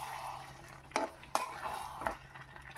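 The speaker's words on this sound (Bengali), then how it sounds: "ভালো করে আমি নাড়িয়ে চাড়িয়ে নিলাম।" Fried marinated chicken being stirred in a pot with spices, a spoon scraping and clanking against the metal in a few distinct strokes over a low background sizzle.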